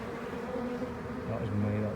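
Honey bees from a house colony hum as they move into a box, a continuous close drone with shifting pitch that swells slightly toward the end.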